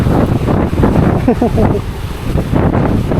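Strong wind buffets the microphone in heavy gusts at Taal Lake while a person talks over the rushing noise.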